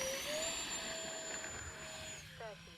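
An E-flite A-10 electric RC jet with navigation lights and takeoff flaps spools up for takeoff, a steady rising whine with a sustained high tone that shifts in pitch, loud and continuous for about three seconds.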